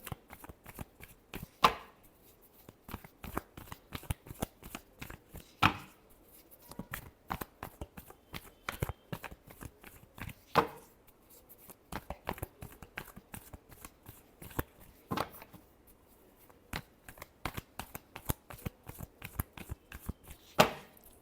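Tarot cards shuffled by hand in a long series of crisp riffling bursts and soft slaps, some louder than others, repeating irregularly with no talk over them.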